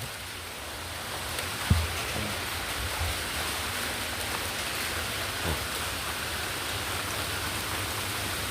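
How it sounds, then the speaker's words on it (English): Rain falls heavier as a steady, dense patter and hiss of drops on surfaces, close and continuous, with one brief louder knock near the start and no talking. "Now it's starting to rain a little heavier."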